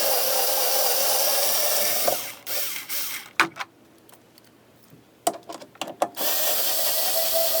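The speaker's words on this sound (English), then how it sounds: "So let's just take out these bolts here." A ratchet wrench clicks rapidly as bolts come out of an arcade cabinet control panel, in loud sustained bursts broken by a quieter pause with scattered clicks, then more ratcheting.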